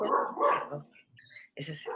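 A dog barks a couple of times close by, sharp and loud, before a person speaks briefly.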